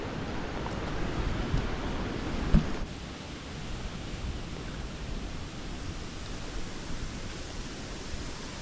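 Strong, dry wind roars steadily through a forest near a sandy open area, a continuous broadband rush that drops slightly in intensity after a few seconds, with no talking.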